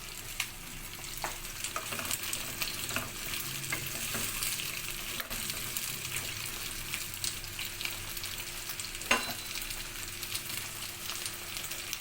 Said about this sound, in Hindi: और इसमें भिंडी फ्राई कर रहे हैं।